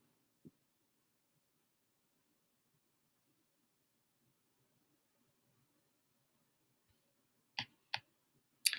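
A few sharp computer mouse or trackpad clicks sound close by: one faint click early on, then a quiet stretch, and then three crisp clicks near the end.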